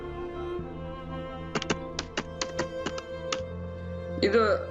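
Rapid clicking of keys on a computer keyboard, about ten sharp taps in an uneven burst over a steady background hum, followed by a brief voice-like sound near the end.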